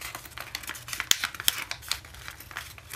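Paper being crisply creased and reverse folded for an origami cocker spaniel, close crinkling rustles with a couple of sharper crackles, no speech.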